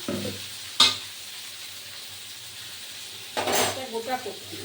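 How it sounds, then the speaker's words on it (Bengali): Cabbage cooking in a pan for a vegetarian Bengali cabbage curry as tomatoes are added, with a sharp metallic clink near one second and a louder burst of stirring and sizzling scrape toward the end over a steady low frying hiss. "এর মধ্যে আমি এবার দিয়ে দেবো এই টমেটো"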